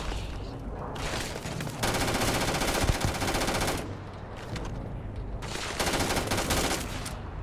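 Sustained automatic weapon fire from a Starfield firefight, loud and dense bursts running almost continuously across the stretch with brief lulls between volleys.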